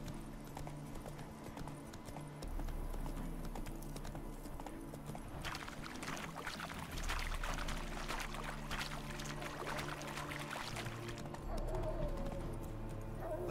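Horse hooves clip-clopping at a steady galloping rhythm in the Witcher III game, continuous and fairly prominent over a low ambient music and wind bed.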